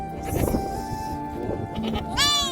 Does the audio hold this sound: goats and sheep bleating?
yes